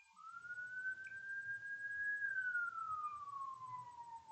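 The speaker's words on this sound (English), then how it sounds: "siren." Single siren wail rising smoothly to a held high pitch, then slowly falling, moderately faint over a quiet background with no voices.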